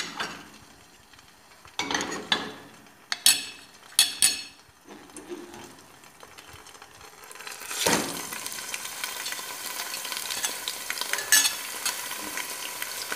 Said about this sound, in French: Et je vais ajouter donc ma viande hachée.